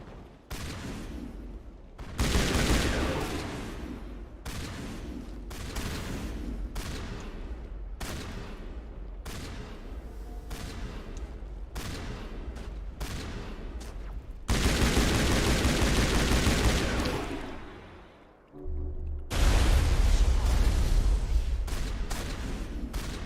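Dense, continuous gunfire and turret shots from the video game Mass Effect, a loud unbroken barrage with brief gaps and a heavier burst of fire near the end.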